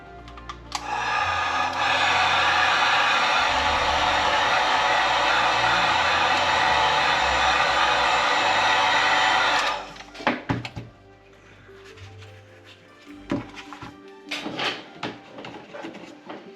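A heat gun blows a loud, steady hiss for about nine seconds while warming vinyl wrap on a 2023 Toyota GR Corolla, then cuts off, followed by scattered handling clicks and rustles.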